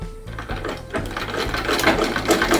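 A treadle-driven sewing machine stitches at close range, its needle thumping in a quick regular rhythm that speeds up slightly as the run continues.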